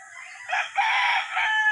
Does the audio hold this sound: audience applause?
no